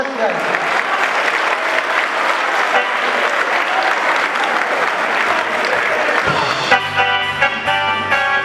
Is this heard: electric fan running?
no